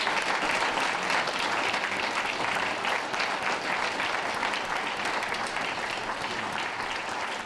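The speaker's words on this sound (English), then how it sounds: "So please give them a round of applause." Sustained applause from an audience at a dog show awards event, steady and dense throughout, with no voices breaking through.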